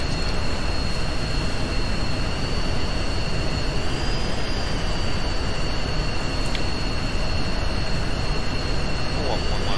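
Simulated jet engine of a fighter landing at Osan air base in the Falcon BMS flight simulator, a steady loud broadband roar with a high whine, continuous and close throughout, with radio chatter over it.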